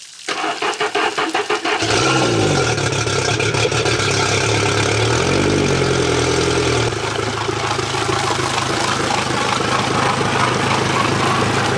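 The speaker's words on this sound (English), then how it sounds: "I'm just going to run some water through the engine just so that I can get the engine running" An outboard boat engine cranks briefly, then catches and runs steadily at a loud, close idle, with a couple of short revs partway through.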